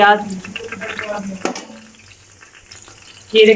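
Sizzling and crackling of onions frying in oil in a pan, with soft stirring scrapes, close and fairly loud.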